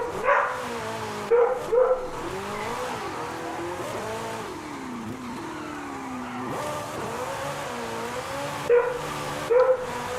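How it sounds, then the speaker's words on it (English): A dog barks in a few short bursts, two early on and two near the end, over the steady whine and shifting engine tones of a rear-wheel-drive drift car in a racing game. "And my dog's is barking."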